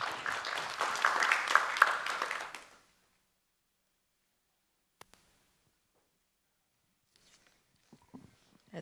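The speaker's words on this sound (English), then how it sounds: "A round of applause to her" Brief applause from a seated audience at an energy sector dialogue, a few seconds of dense clapping that stops abruptly, then near silence with faint shuffles.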